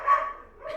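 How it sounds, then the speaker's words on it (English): A small dog gives a quick, yappy bark up close, then a second, softer yip right after, with nothing else in the background. "She's just yapping. She's just a little yapper."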